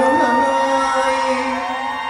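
A crowd shrieks and cheers at a Thai likay folk-theatre show, high sustained screams and whoops blending into a loud, continuous wail that holds for a couple of seconds.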